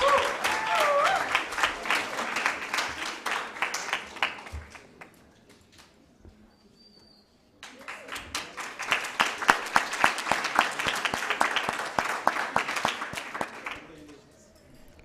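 An audience applauds at a university moot court competition awards ceremony in two bursts of fairly sparse, distinct handclaps separated by a brief quiet pause.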